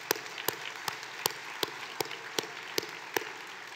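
Crowd applause at a charity gala dinner, with a soft background patter and one nearby clapper striking sharp, evenly spaced claps about every four-tenths of a second.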